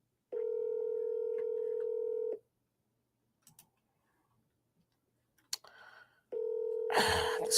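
Outgoing phone call ringing back through the line: two long steady ring tones, the first about two seconds, the second starting near the end, with a few faint clicks in the quiet gap and a brief burst of noise at the close. No talking.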